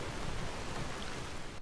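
Steady rain falls in the fantasy game Enderal under drifting ash, a dense even hiss with no breaks and no voices.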